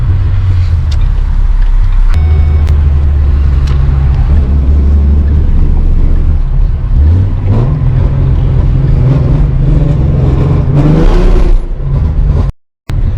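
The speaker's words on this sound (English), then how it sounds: "Oh my God, this thing was sputtering and stalling" A Ford Mustang 3.7L engine with bad O2 sensors idles roughly nearby, its low rumble wavering, surging and sagging unevenly before abruptly cutting out near the end as it stalls.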